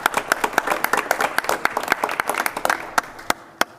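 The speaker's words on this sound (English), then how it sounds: "we should give Anthony a round of applause" A modest school-meeting audience claps for a student, distinct individual handclaps forming a brisk uneven patter that thins to a few isolated claps before stopping.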